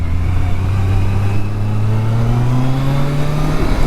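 A 2023 Kawasaki Versys 1000 LT motorcycle accelerates in sport mode, its engine tone climbing smoothly under steady wind noise.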